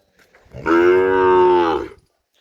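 A water buffalo at a village cattle shed, brought out to drink water, lets out a single long, loud, close moo lasting over a second, with no voices around it.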